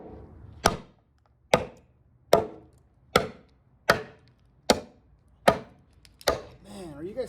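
Mega RYNO Bowie knife chopping thick treated oak over an inch thick: eight evenly spaced, sharp woody thwacks close up, each with a short ringing decay, ending in a brief muffled rustle.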